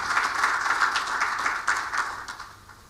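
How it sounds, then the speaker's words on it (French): Audience applause at a cybersecurity panel conference in Morocco: dense, moderately quiet clapping from a crowd that holds steady and then tapers off. "que je vous demande d'applaudir."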